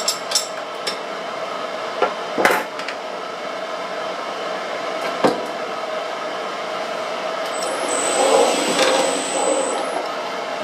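A drill bit boring a hole in a compression tube alignment button, a steady whirring hum with a few sharp clicks and a rising, rougher grind near the end, fairly close and alone.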